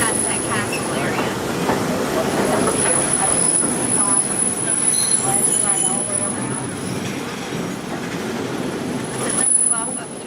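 The Walt Disney World Railroad train at Magic Kingdom rumbles along its tracks with wheel squeal and a steady rolling clatter, heard from on board, with a high constant whine over it.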